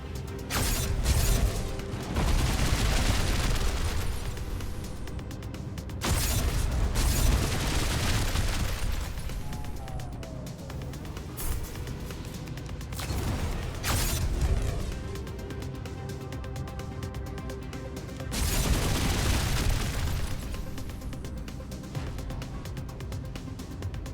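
Spaceship weapons fire in the video game Star Control Origins: loud bursts of blasts and booming shots come in waves over a dense mechanical game soundscape.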